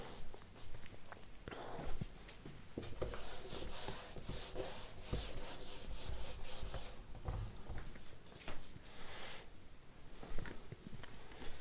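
Steady scrubbing rub of an eraser across a board during a structural analysis lesson, a faint continuous scratchy friction with uneven strokes and no talk.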